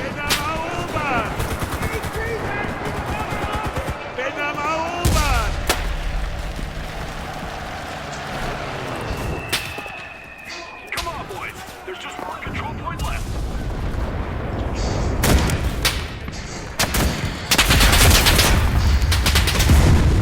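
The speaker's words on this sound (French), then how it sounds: "Ok, j'envoie une grenade là-bas." Gunfire and a grenade explosion in the World War II shooter Enlisted: steady machine-gun bursts and rifle shots, a heavy blast, and rumbling booms building toward the end, with someone talking over the fighting.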